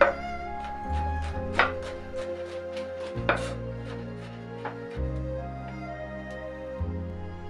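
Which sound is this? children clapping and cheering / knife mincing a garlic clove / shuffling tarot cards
knife mincing a garlic clove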